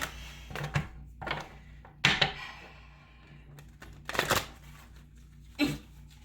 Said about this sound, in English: I've already struggled to shuffle.